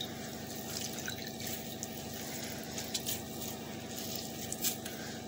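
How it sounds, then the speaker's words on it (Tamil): Soaked bread slices are pressed by hand to squeeze out the water, producing faint squishy drips and trickles over a steady low background hum. "ப்ரெட்டை எடுத்துகிட்டு வாட்டரில் டிப் பண்ணிவிட்டு தண்ணி ஃபுல்லாக விட்டதுக்கு அப்புறம் இப்படி ப்ரெஸ் பண்ணிங்கன்னா தண்ணி ஃபுல்லாக விட்டுருல."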